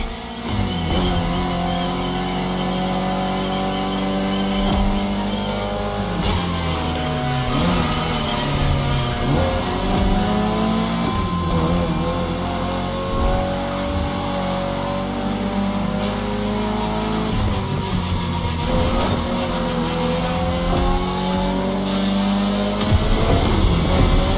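The engine of Toji's Mitsubishi Lancer Evo X revs loudly and steadily, the pitch climbing and dropping through repeated throttle sweeps over a sustained close drone, with no voices.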